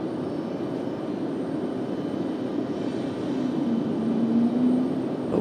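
An Airbus A220 jet airliner, likely Breeze Airways, passes overhead at Raleigh-Durham airport at night with a steady engine roar and a rising whine that swells toward the end.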